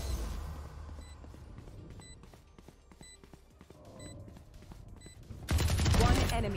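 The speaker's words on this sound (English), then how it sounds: "Swarm grenade out." Killjoy's swarm grenade in Valorant gives regular beeping pops about once a second against scattered gunfire and thuds, then breaks into a loud, close burst of crackling explosions.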